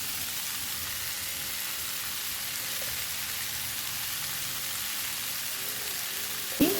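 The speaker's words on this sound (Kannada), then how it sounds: "ನೋಡಿ ಒಂದು 2 ನಿಮಿಷ ಇದು ಫ್ರೈ ಆಗಿದೆ" Corn kernels frying in a pan for a corn masala snack, giving a steady, even sizzle that runs unbroken throughout, ending with a brief clink near the close.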